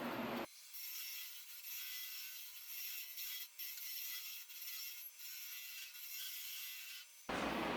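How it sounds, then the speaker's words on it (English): A wood gouge hollows the inside of a boxelder burl urn spinning on a lathe, giving a steady close scraping hiss with brief dips where the cut eases, with no speech over it. "I'm just going to concentrate on working down in here"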